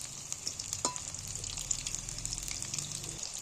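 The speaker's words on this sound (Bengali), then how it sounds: "এগুলো একটু লাল লাল করে ভাজতে হবে" Egg pieces fry in hot oil for a dish of steamed egg bhapa, giving a steady close sizzle with faint crackle and a brief clink of a utensil partway through.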